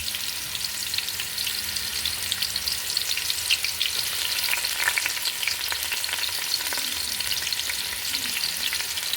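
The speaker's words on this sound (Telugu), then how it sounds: "ఆయిల్ వేసుకొని ఇంకా ఆనియన్స్ వేసేద్దాము." Onions fry in hot oil in a pot, a dense, steady crackling sizzle with occasional stirring scrapes, close and continuous, with no talking.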